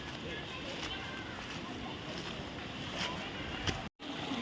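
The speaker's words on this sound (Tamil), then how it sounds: "பாருங்கள் ஓட தண்ணி" Stream water runs and splashes in Kallar forest park, a steady broadband rush close by with a brief dropout near the end.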